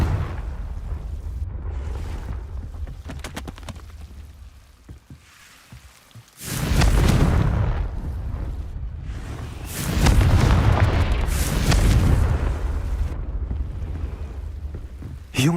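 Confringo blasting spell explosions in Hogwarts Legacy, loud broadband booms with rumbling tails, two big bursts separated by a few seconds over a constant low game ambience, trailing into crackling debris.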